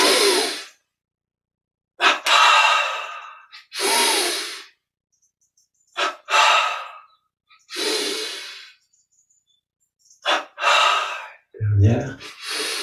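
Two quick sniffing inhalations repeated in short bursts during a breathing exercise, close and loud, separated by silent pauses, with a few longer sighing breaths and a brief low thump near the end.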